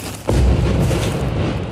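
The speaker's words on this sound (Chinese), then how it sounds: "The hospital is still under bombardment. There has been heavy shelling and live fire" Shelling strikes near a hospital in Gaza under bombardment, heard as a loud, deep boom that bursts in and then rolls on as a sustained, rumbling roar.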